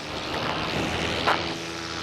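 A paramotor engine drones steadily at half throttle in level flight, a constant buzzing propeller hum heard close and continuous with wind noise, no talking.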